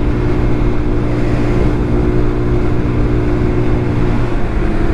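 A GY6 scooter engine drones steadily while riding, a loud close hum with buzzing low harmonics mixed with wind rush over the microphone, continuous for the whole stretch with no talk.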